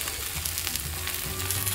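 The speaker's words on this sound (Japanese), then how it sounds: "ちょっと両面裏返したりして、こんな感じで焼けております。" Steady sizzling and crackling of chicken frying in a hot sandwich maker, close and continuous with faint popping, no voices.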